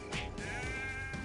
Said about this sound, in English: Oh god, I hit the goat.